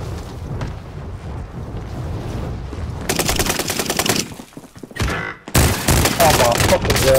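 Gunfire in Call of Duty: Modern Warfare, dense rapid bursts of shots loud and close, breaking off briefly then resuming, with a player's voice talking over the action earlier on.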